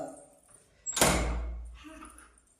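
A door slides open with a sudden rolling whoosh that fades out over a second; quiet sounds of a room around it.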